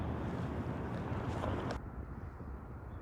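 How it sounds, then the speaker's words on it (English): Steady, blustery wind buffets the microphone with a heavy roar, easing partway through but continuing as a lower rumble. "Now the wind's starting to kick up from the east."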